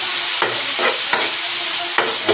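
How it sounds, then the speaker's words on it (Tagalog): Tomatoes stirred into a hot frying pan with ginger for fish sinigang, giving a steady close sizzle broken by three sharp scraping stirs of a utensil against the pan. "sunod natin ang kamatis"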